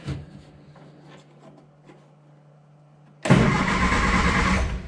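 Classic Mini engine firing up after ten years unused, a quiet ticking pause and then a sudden loud catch into a steady close running idle.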